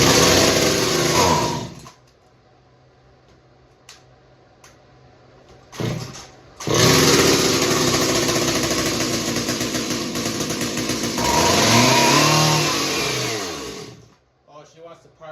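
A gas-powered bottle opener with a small engine and sticking throttle revs loud and high-pitched, cuts out briefly near two seconds, then roars steadily again before dying off at the end.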